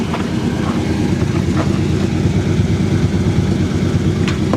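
A 1979 GMC Caballero engine runs steadily with its exhaust blowing out mouse nest material, a continuous close rumbling drone with faint irregular ticks and no voices.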